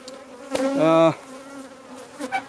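Honeybees buzz densely around the listener at an open hive, a close, wavering drone with a few louder bees passing near.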